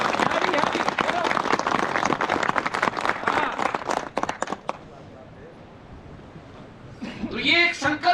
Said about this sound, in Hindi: धराली की ताली चाहिए मुझे। चलो बजाओ।